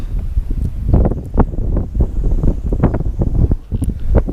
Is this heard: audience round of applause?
no